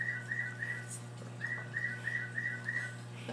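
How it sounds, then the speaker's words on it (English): A bird clock in a lab room plays a recorded birdsong: a rapid series of bright, whistled chirps in two short runs, faint and steady above a low electrical hum, with no talk. "You're hearing a bird clock behind us."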